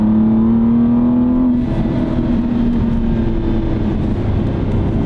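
An Aston Martin V12 Vantage engine runs loud and close, a steady droning tone that lifts briefly then settles into a sustained rumbling growl.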